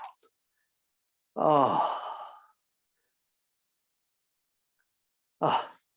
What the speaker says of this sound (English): And breathe in and let the breath out.